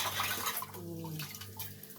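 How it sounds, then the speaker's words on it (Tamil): Kalpasi, the dried stone flower spice, being rinsed in water in a home kitchen while making mutton gravy, giving a continuous close splashing and trickling wash with faint clinks of a vessel. "கல்பாசி. தண்ணியில் அலசிடுறேன்."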